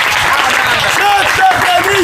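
A church congregation applauds in a steady, dense wash of clapping, with voices singing and calling out over it throughout.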